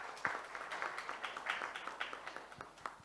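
An audience at a procurement panel event claps for a speaker, a faint, thin patter of scattered hand claps with fairly few people, uneven and fading slightly by the end.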